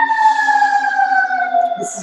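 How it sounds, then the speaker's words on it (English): Fire engine sirens wail outside, a loud, steady tone slowly sliding downward in pitch, continuous throughout with a faint hint of other sound near the end. "Of course, I start recording and there's sirens everywhere"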